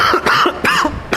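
A man teaching a history lecture coughs several times in a quick, harsh, close-up burst with throat-clearing rasps, no words spoken between the coughs.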